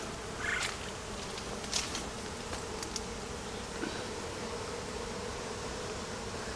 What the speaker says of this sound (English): bees are already going into the my 5-frame nuke box and checking it out